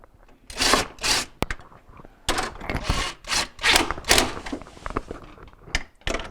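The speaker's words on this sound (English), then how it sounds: "We're going to take our ice maker, push the tube in through the hole here, and then start putting in the screws." Screws being driven to fit an ice maker into a Jenn-Air refrigerator freezer, with bursts of close scraping, rubbing and rattling plastic and a few sharp clicks between short pauses.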